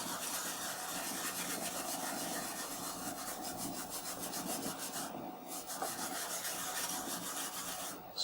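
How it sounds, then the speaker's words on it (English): A shop towel scrubs a Commodore 64 circuit board in steady, continuous rubbing strokes, a close, dry rasping texture that runs throughout with a brief pause near the middle. "Scrubbing gently."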